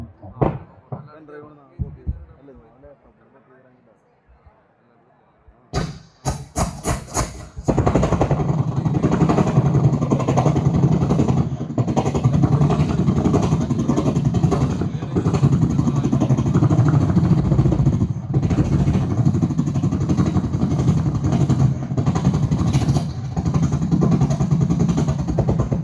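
A voice imitates an old Royal Enfield Bullet motorcycle engine, first a few sharp revving pops, then a loud, steady, throbbing thump held for some twenty seconds, close and alone after brief talk at the start.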